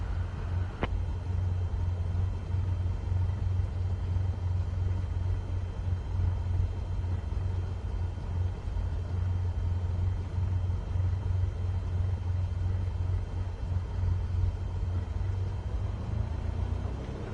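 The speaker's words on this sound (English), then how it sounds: "Now, gently increase throttle to get the aircraft moving." A steady low engine rumble from a single aircraft as the throttle is eased up to begin taxiing, droning evenly and continuously without any voices.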